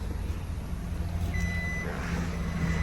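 Reversing beeps from an Isuzu D-Max in reverse gear, a faint high electronic tone sounding over a steady low engine hum, with no talking.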